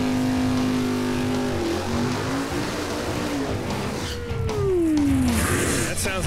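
A Chevrolet Vega drag car engine revs loud and close at a drag strip, a sustained roar with rising and falling pitch sweeps as the throttle opens and closes, ending in a surge.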